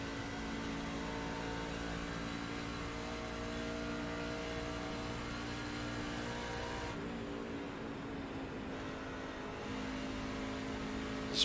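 Truck engine in iRacing at Charlotte holds a steady, loud drone under light throttle for about eleven seconds, the tone dipping briefly midway before settling back, with no voices.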